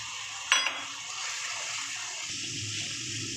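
Poppy seed paste sizzles as it goes into a frying parshe fish curry with yogurt and salt. A sharp clatter of a utensil marks the moment, then a steady, even hiss of frying oil continues throughout.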